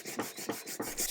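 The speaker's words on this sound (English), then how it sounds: "I did a lot of sanding by hand" Hand sanding on an old wooden table from the 1700s, rapid rhythmic back-and-forth rasping strokes, about four per second, close and clear with no voices.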